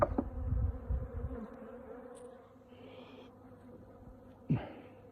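Honey bees hum around an opened hive during a honey harvest, a faint steady buzz drifting close then away, broken by a few soft bumps and one brief sharp knock near the end.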